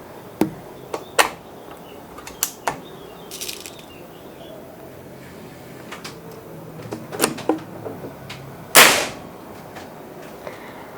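Air rifle shots from a budget Mauser PCP during an FPS test: a few sharp isolated cracks spaced over several seconds, one louder burst near the end, against faint outdoor background.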